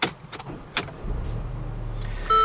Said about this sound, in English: you stick the key in the ignition and then turn it and start it just like a regular car